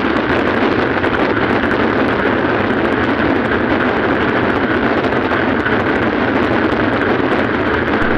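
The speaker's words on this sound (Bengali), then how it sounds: "পদ্মা নদীর উপরে প্রচুর সংখ্যক হাওয়া বয়ে যাচ্ছে" Strong wind over the Padma river roars into the microphone in a loud, continuous, unbroken rush with no voices.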